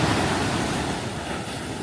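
Steady wash of waves in a wave pool on a Zambales trip, a continuous close roar of churning water with wind buffeting the microphone, no voices.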